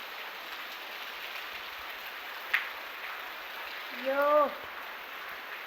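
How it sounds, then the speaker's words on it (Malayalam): Steady rain falls outdoors as a dense, even hiss throughout, with a sharp tap near the middle and a brief exclaiming voice toward the end. "ഒന്നൊന്നര മഴ ഇപ്പം പെയ്യണേ"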